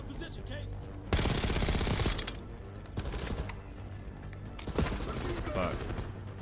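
Rapid machine gun bursts ring out in Call of Duty: Black Ops 6. One long, loud volley is followed by shorter bursts, with a player's voice heard between them.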